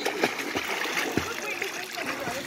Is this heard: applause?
no